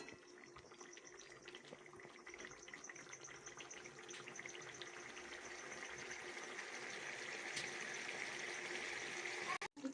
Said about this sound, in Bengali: এবার আমি কিন্তু এতে একটুখানি জল দিয়ে রান্নাটা করে নেব।